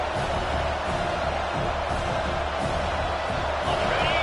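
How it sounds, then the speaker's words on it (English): A large college football stadium crowd at Notre Dame vs Duke roars continuously, a dense wash of cheering and shouting that stays loud and steady throughout. "This crowd bringing the energy and noise early."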